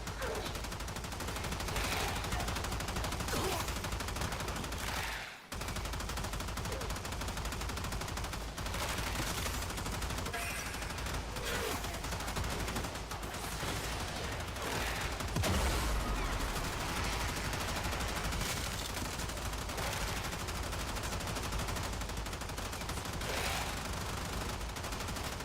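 Enemy gunfire in Warframe, dense continuous fusillades of automatic shots that rattle on and off throughout, loud and relentless, with brief lulls and a few heavier impacts.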